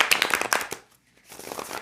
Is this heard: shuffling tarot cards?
yes